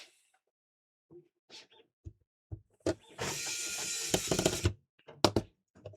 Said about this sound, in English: Then we can get the drive motor like so. Pop the screw back on.